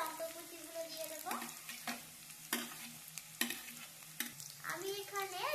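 Chopped onion, garlic and green chilies fry in a pan with a steady near sizzle, broken by several sharp scrapes of stirring; a voice speaks briefly over the cooking.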